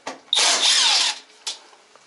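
Close power drill whirring for about a second as it backs screws out of the tub and outer cover of a Sampo ES-A10F washing machine, with brief short bursts before and after.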